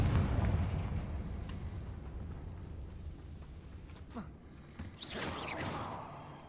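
Confringo fire spell in Hogwarts Legacy, a deep rumbling blast that fades into a low sustained roar, with a sharp crackling burst and swooshing magic effects near the end.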